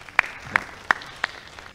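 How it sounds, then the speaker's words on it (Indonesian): A few separate hand claps, about four sharp slaps spaced evenly apart, against a quiet room background, at an annual members' meeting. "Berikan tepuk tangan"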